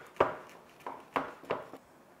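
Crunching of crisp, butter-soaked basma kadayif pastry up close, five sharp brittle cracks spaced irregularly against a quiet background.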